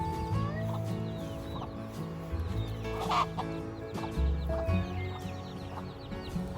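Homestead chickens, including leghorns, Rhode Island reds and sapphire skies, cluck nearby in overlapping bursts and chirps, with a few louder squawks scattered through the busy barnyard chatter.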